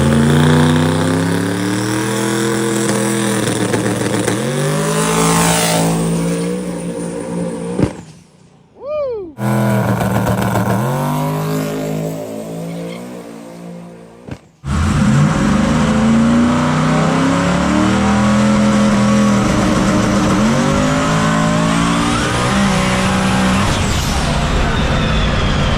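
Cleetus McFarland's Dale truck engine revs hard and close, with loud rising and falling pitch sweeps that cut out briefly twice before roaring back up.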